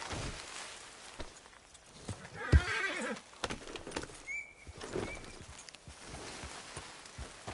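Horses in Red Dead Redemption 2 neigh and whinny over a steady clip-clop of hooves, with one loud whinny rising midway and the hoofbeats continuing underneath.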